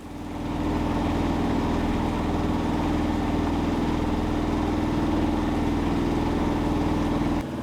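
A sailboat's engine drones steadily, humming continuously at close range with no voices while motoring along the coast toward Butedale, British Columbia, cutting off abruptly just before the end.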